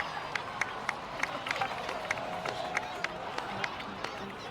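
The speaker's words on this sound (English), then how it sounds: "please give another round of applause for them" Crowd applause in the video game Genshin Impact, a scattered patter of clapping with distinct individual claps over a soft crowd murmur, fairly even in level throughout.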